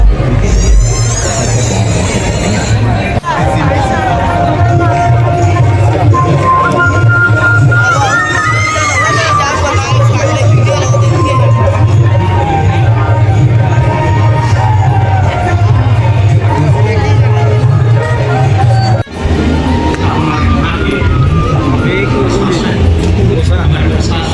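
A dense, steady crowd murmur fills the Rajutsav fair grounds in Nava Raipur, with loud babble and a few distant shouts throughout while a nearby voice talks over it.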